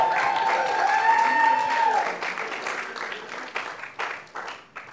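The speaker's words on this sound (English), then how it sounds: "Another round of applause" An audience at a squash fundraiser in New York applauds, dense clapping loud for the first two seconds, then thinning into scattered claps that fade as a speaker talks over them.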